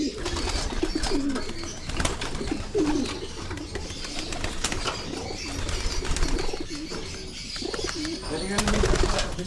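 Pigeons coo in repeated low throaty calls close by, kept in a loft or hen section of a pigeon breeder's collection in Marikina, with occasional wing flutters and people talking over the birds.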